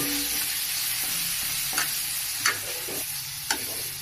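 Red chili powder being stirred into a masala in a pan for a paneer dish, with a steady loud sizzle and a few sharp scraping strokes of the spoon.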